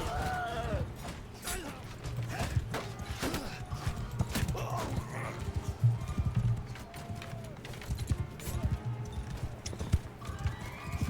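Horse hooves clip-clop steadily in a medieval battle video game, a rhythmic trotting beat at moderate volume, with occasional neighs and creaks mixed in under game sounds.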